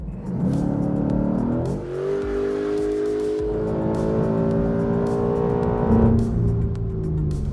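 A 2019 Ford Mustang GT's 5-liter, 460-horsepower V8 roars and climbs through the revs, its deep quad-exhaust note rising steadily as the car accelerates hard, loud and close.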